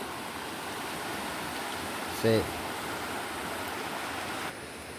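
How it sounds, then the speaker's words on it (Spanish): A river swollen by a sudden flood after a storm rushes past in a broad, steady roar of churning water, close and constant, with a brief spoken word cutting in midway. "miren esta creciente que bajó de repente"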